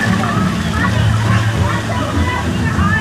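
Water fountain jets at Epcot splash and slosh steadily close by, a continuous rushing spray with the murmur of a crowd and a voice talking over it.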